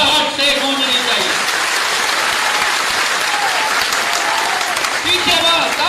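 Loud, sustained applause from a political rally audience fills a packed hall at a membership ceremony in Gwalior, with dense steady clapping and crowd noise throughout.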